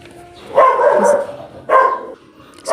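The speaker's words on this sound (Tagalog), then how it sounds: "ang ingay po ng aso." A dog gives two loud, close barks about a second apart, each drawn out slightly, with quiet background between.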